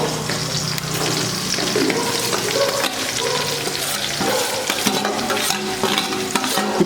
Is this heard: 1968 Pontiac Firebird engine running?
no